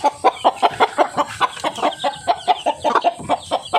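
Chickens clucking on a free-range backyard farm in the Philippines, a steady run of short rhythmic clucks repeating close by, fairly loud, with no talking.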